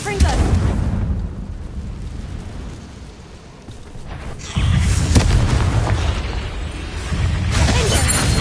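A Confringo blast spell in Hogwarts Legacy explodes with a heavy, booming burst and crackling debris. A second deep surge follows midway, and rumbling lingers throughout.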